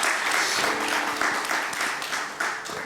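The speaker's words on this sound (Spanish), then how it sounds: "Dele otro aplauso fuerte al Rey de Reyes y el Señor de Señores." A church congregation at a family celebration service in Jamundí bursts into loud, continuous applause, steady and enveloping throughout with no pause.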